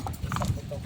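Hooves of a horse hauling a heavy load of coconuts in Tayabas clop briefly on the ground, a few quick close steps heard under someone talking.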